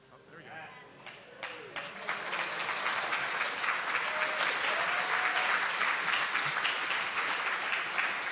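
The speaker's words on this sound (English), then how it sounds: "Can we get another round of applause for them?" Audience applause at a NASA Space Apps Challenge Toronto demo swells after a scattered start and holds as steady, dense clapping, with faint voices mixed in.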